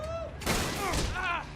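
Gunshots from Resident Evil 7: a couple of sharp close bursts of fire over game sounds, with a brief voice in the mix.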